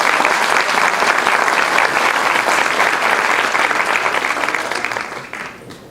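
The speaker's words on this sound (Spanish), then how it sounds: "Les pido recibamos un fuerte aplauso a la maestra Silvia" An audience welcomes a teacher named Silvia with loud, dense, sustained applause from a large crowd, holding strong for several seconds before gradually tapering off toward the end.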